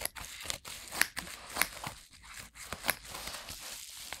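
Scissors cut open the plastic packaging of a craft kit up close, with a quick run of snipping, crinkling and tearing sounds, soft and irregular, and no talking.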